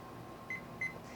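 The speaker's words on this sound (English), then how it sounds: "But I will put the timer on because I don't trust myself." A kitchen timer next to an oven gives two short, clear electronic beeps about a third of a second apart, close by in a quiet room with a faint hum behind.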